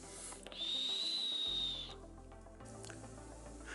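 Faint, steady high whistle from a vape atomizer, the 1.4 Hurricane E by Phoenix, fitted with a Volutsmod drip tip, holding for about a second and a half over low background noise before fading.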